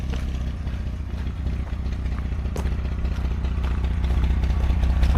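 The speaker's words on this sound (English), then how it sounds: "It sounds good and quiet. Just sounds like a truck." A 1989 Dodge W100 truck engine idles with a low, steady rumble and some rattling clatter, growing slightly louder toward the end, with no talking.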